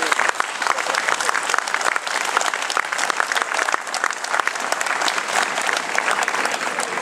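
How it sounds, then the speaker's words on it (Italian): Warm applause rises from a concert audience for three town bands from Brusasco, Crescentino and Saluggia, dense loud clapping that stays full and even from start to finish. "a loro facciamo subito un caloroso applauso"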